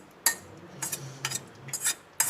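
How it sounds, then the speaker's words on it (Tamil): A spoon stirring mango and neem-flower pachadi in a metal vessel, several short scraping clinks spaced irregularly, close and fairly quiet with no voices. "சேர்த்துட்டு இப்போ நல்லா மிக்ஸ் பண்ணி விட்டுறணும்."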